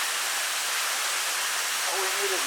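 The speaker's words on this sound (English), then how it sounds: "So we made it into the first set of waterfalls, the first waterfall here" Steady, full-band rush of a waterfall on the Ka'au Crater hike, loud and continuous throughout, with a faint higher tone appearing near the end.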